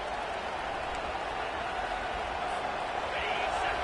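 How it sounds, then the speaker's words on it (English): A stadium crowd in a college football video game, USC against Tulane, roars in a loud, steady wash of noise that never lets up through the whole stretch. "The roar of the crowd trying to fuel this defense to keep them pinned in their own end."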